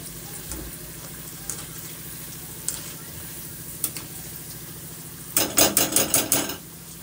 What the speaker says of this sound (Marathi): बघा छान असे हे आपले फ्राय होत आहेत मीडियम फ्लेम वरती